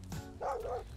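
A dog in the survival game Mist Survival gives a short two-part bark, a brief yip followed by a louder drawn-out bow-wow, fairly quiet and close, with no talk.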